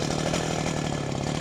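Chainsaw cutting into a large, leaning tree being felled with a wedge, loud and close, a continuous harsh buzzing drone with no talk.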